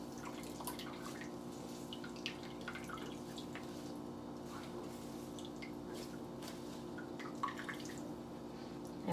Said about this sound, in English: Look at all that liquid coming out.